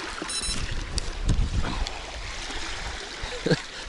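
A cold north wind blows outdoors at a carp fishing spot by the water, a steady rushing buffet across the microphone with occasional gusts and small knocks.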